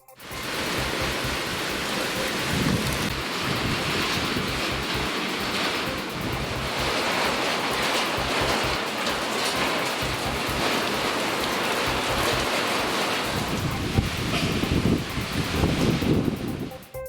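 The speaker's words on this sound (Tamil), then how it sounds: "திடீரென பலத்த காற்றுடன் மழை பெய்தது" Heavy rain driven by strong wind in a rural Tamil Nadu area, a steady broadband roar of downpour and gusts filling the whole stretch without a break, loud and close with no voices.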